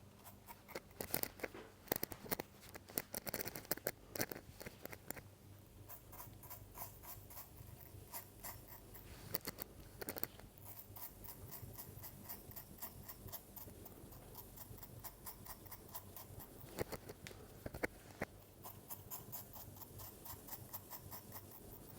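Scissors snip repeatedly at a person's own hair at home, a close series of crisp, irregular clicks and crunches that come in quick bursts with brief pauses between them, and no talking.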